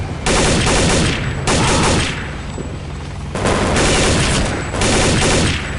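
Gunfire in the video game Counter-Strike: Condition Zero Deleted Scenes, a sniper and other weapons firing, heard as four loud, sustained bursts of shooting about a second long each, separated by short quieter gaps, with no talking.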